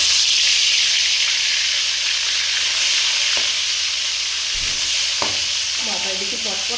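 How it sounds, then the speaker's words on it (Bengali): Pieces of rohu fish, rubbed with salt and turmeric, sizzle steadily in hot oil, a dense close hiss with occasional sharp pops and spatters near the end. "এবার কিন্তু আমি মাছগুলোকে একটা একটা করে ছেড়ে দেবো ওর ভিতরে।"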